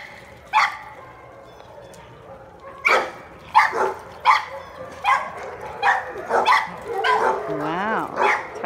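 Two dogs bark and yip while playing, with sharp barks in irregular bursts, close and loud, ending in a whimpering whine. A person talks softly to them between the barks.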